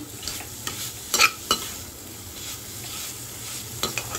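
A spoon stirs a filling of dry fruits and potato for stuffed Kashmiri aloo dum in a pan, soft scraping under a faint sizzle, with a few sharper taps against the pan edge; no one talks.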